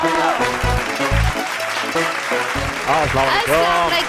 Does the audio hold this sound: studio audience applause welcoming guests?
yes